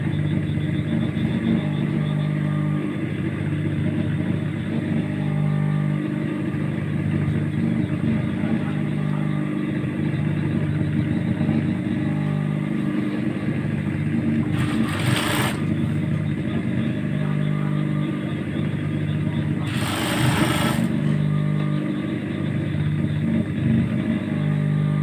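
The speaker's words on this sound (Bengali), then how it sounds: "দেখুন আমি কীভাবে সেলাই করি।" A sewing machine runs steadily throughout while stitching small baby shorts, a continuous close mechanical rumble and whir, with two brief sharper bursts partway through.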